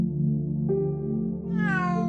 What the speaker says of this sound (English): The cat starts meowing at him like, meow, meow.